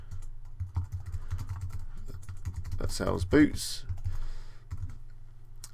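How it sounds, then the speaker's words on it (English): Quick, uneven keystrokes clatter on a computer keyboard while website copy is entered in a WordPress page editor, close and steady, with a person briefly speaking over the typing. "you can just start typing"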